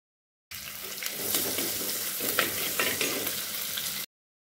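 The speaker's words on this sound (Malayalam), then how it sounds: "അപ്പോൾ ഇനി നന്നായിട്ട് ഇതൊന്ന് വഴറ്റിയെടുക്കണം." Shallots, ginger and garlic sizzle and fry in a pan while being stirred for a shark curry, a close, steady crackle that starts abruptly and cuts off after a few seconds.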